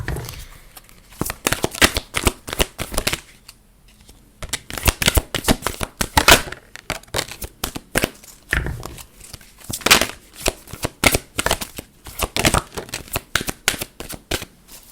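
Numerology and oracle cards being shuffled up close, in loud, rapid riffling bursts with short pauses between them, the stiff cards flapping and snapping with no talk over them.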